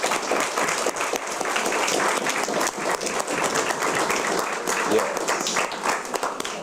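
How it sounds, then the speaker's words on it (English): A youth parliament audience claps loudly and continuously, a thick, busy roar of many hands close by that holds steady throughout with small surges. "So please give yourselves a round of applause."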